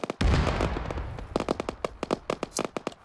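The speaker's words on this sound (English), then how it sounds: "Mortar." Mortar rounds exploding in a military video game: a heavy close blast with a rolling rumble, followed by a rapid series of sharp distant cracks and pops.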